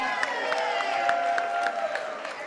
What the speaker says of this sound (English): Please give a round of applause for Levant, our second place prize winner